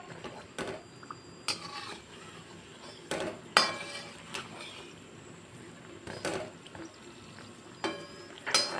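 Onion kachori fry in a pan of oil over a medium flame, a soft steady sizzle broken by several clinks and scrapes of a utensil against the pan as they are turned.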